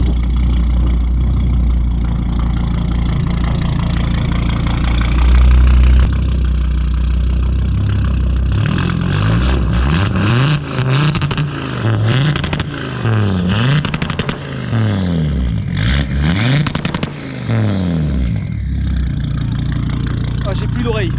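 An Audi RS3 stage 4 drag car with over 800 horsepower starting up, a sharp loud burst followed by rough idle and a series of rising and falling revs, close and very loud, with French voices talking before and during.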